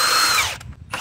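A power tool whirs briefly while removing a 10mm bolt nut on a 2004–2012 Nissan Murano engine during an engine removal, then cuts off with a short buzz after a pause.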